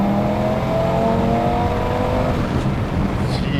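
An Audi RS3's engine roars continuously and loudly, holding a steady revving drone throughout with no break, heard close and without voices.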